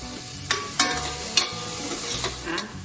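Chopped onion and tomato sizzle in a pan while cooking Gujarati palak khichdi, with a steady frying hiss and a few sharp spatula scrapes and stirring knocks, close and moderately loud, no talking.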